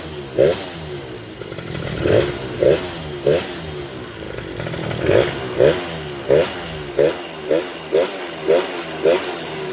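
A Bajaj motorcycle, revived after sitting a year with a cleaned carburetor, idles with an uneven burble while the throttle is blipped in a steady series of short, sharp revs, close and loud.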